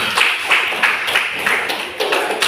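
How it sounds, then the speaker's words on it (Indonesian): A classroom group clapping for a presenting group, a close, lively burst of overlapping claps in an uneven rhythm lasting a couple of seconds. "Tepuk tangan dulu untuk kelompok."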